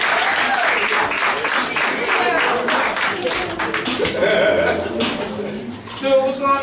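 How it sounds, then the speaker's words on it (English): Comedy club audience clapping as a comedian walks onstage for a roast battle, steady loud applause with some chuckling and voices talking over it throughout. "Would you guys please start clapping your hands right now for Stewart Fullerton?"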